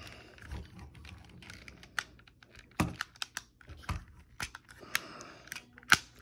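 Plastic clicks and snaps from parts of a King Exkaiser MPB-01 toy figure being folded and closed, close up, a string of irregular sharp ticks and a few louder snaps.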